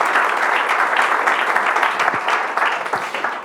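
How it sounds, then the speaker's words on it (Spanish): An audience at a conference applauds a speaker named Rafael, steady dense clapping filling the room at a loud level throughout. "Un aplauso para Rafael, por favor."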